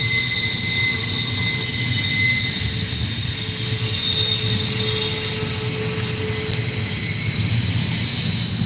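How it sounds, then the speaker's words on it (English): A train's wheels squeal in long, high-pitched screeches over a heavy, steady rumble as it slows, loud and close throughout. "I think this train is stopping."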